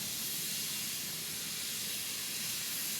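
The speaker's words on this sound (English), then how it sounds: "there's certain times where a train is running by" Steady hiss and rumble of a train running past a nearby station, heard from inside a studio beside the window; a broadband wash with no distinct clatter, moderately quiet and unbroken throughout.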